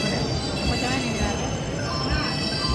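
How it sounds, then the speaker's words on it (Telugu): A train pulls into a crowded railway station, a dense rumbling roar of wheels and carriages filling the short span alongside a busy hum of the platform crowd. "రైలు వచ్చింది మొత్తానికి"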